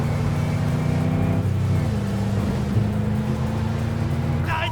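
Car driving and accelerating in the video game Cyberpunk 2077, a steady engine drone with a sustained low tonal hum that shifts pitch midway, loud and continuous with no talk over it.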